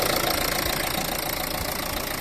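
A healthy Renault Megane 3 1.5 dCi turbodiesel engine idles steadily up close, a continuous low rumble with a faint knocking, diesel texture and no variation in level.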